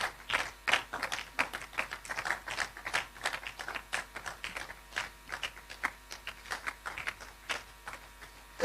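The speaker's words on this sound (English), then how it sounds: "Let's keep clapping for her." A small audience claps at a World Intellectual Property Day event. The claps are sparse and fairly faint, irregular and sharp, and they keep on throughout.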